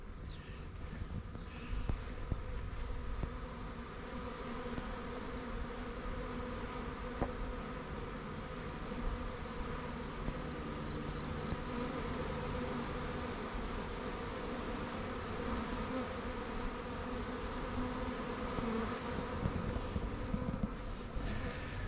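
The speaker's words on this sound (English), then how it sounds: "that's definitely a swarm moving in up there" A dense, steady buzzing of a swarm of bees moving in, continuous and fairly loud throughout with no voices.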